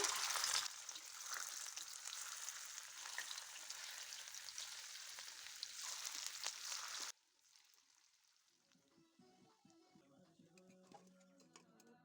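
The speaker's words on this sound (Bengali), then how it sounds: "প্রথমবারের বড়াগুলো আমার ভাজা হয়ে গেছে তুলে নিচ্ছি বাকি বড়াগুলো ভেজে নিচ্ছি" Banana flower fritters frying in oil give a soft, steady crackling sizzle for about seven seconds, then it stops abruptly and quiet music takes over.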